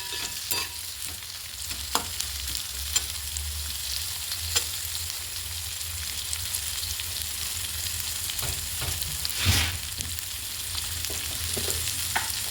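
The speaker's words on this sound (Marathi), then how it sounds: "त्या थोड्याशा आपण आता फ्राय करून घेऊया तेलात" Chopped onion, capsicum and green chillies fry in hot oil for a prawn chilli, making a continuous close sizzle broken by occasional sharp stirring clicks and scrapes.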